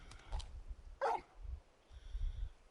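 Torgal, a large dog in the video game Final Fantasy XVI, lets out a few short barks and a yip spread across a quiet scene, soft and fairly close.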